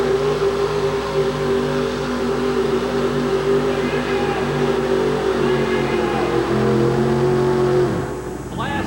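The Shadow monster truck's engine roars at full load during a truck pull, a loud, sustained, strained drone with shifting pitch. The engine cuts off abruptly near the end.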